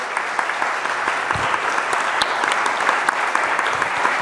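An audience at a book presentation applauds the son jarocho group Grupo Mono Blanco with a full, sustained round of clapping from many people, steady and fairly close.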